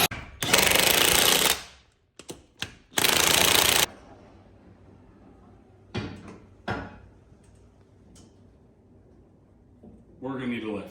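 Loud bursts of an impact drill wrench rattling on the lug nuts of a Jeep wheel, two long bursts and several short blips, followed by quieter garage sounds and clinking.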